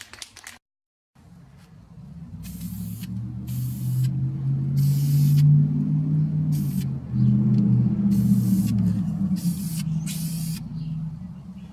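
Steady hiss of a spray can or spray gun running almost continuously over a low rumbling background, with a few brief pauses between bursts.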